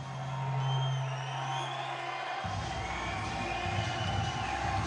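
Boxing crowd at an Air Force Base arena, a steady roar of cheering and whooping voices with a low hum underneath that cuts out midway.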